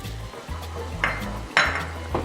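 Garlic dropped into a pot of boiling broth on the stove, giving a couple of short splashy clinks against a steady low bubbling hum, close and fairly quiet.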